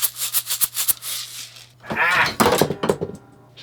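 A homemade shaker, a container half-filled with dried chopped onions, rattles in quick bursts, a run of sharp shakes followed by a brief pause and a looser, fuller rattle, close and fairly loud.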